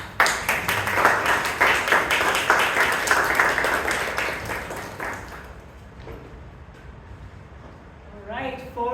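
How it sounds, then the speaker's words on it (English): An audience at a Toastmasters club meeting in Bangalore applauds steadily for about five seconds, the clapping fading out into quiet room sound before a voice starts speaking. "can we have a big round of applause for all the role takers of all the speakers?"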